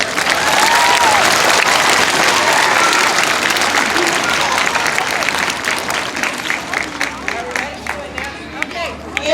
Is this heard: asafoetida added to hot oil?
no